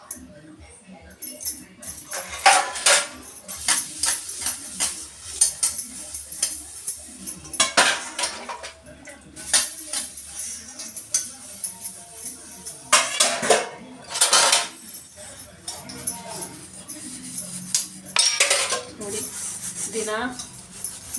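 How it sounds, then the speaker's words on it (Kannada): Dishes and cutlery clink and clatter repeatedly in irregular bursts, close by, as someone washes up at a home kitchen sink. "ಪಾತ್ರೆ ತೊಳೆದು ತೊಳೆದು ನೀಟ್ ಮಾಡ್ಕೊತಾ ಇರ್ತೀನಿ"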